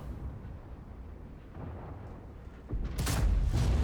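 A tank cannon shot strikes its target in World of Tanks, fired from a British FV4005 tank destroyer. A low rumbling background gives way to a sudden heavy boom and roar near the end.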